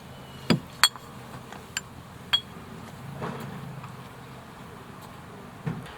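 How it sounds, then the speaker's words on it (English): Glass bottles dropped into a recycling container at a recycling site give a few sharp separate clinks and clunks spaced across several seconds, with a low rumbling wash of background noise between them. "Some people really like the noise when putting glass in here."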